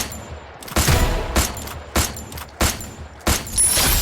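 Bursts of gunfire from a shooting video game, several loud sharp volleys spaced about half a second to a second apart, with short quieter gaps between them.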